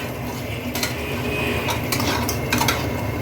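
Food fries in a kadai on the stove with a steady, loud sizzle throughout, while a utensil stirring and scraping against the pan adds several sharp metallic clinks.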